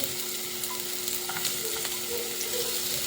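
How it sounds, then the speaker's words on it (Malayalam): Finely chopped onion dropped into hot ghee in a pan, giving a dense, even sizzling hiss that runs steadily throughout at moderate loudness, with no voices. "ഞാനവിടെ ഒരു സവാള ചെറുതായിട്ട് കട്ട് ചെയ്തെടുത്തിട്ടുണ്ട് കേട്ടോ നമുക്കതൊന്ന് ഇട്ട് കൊടുക്കാമേ"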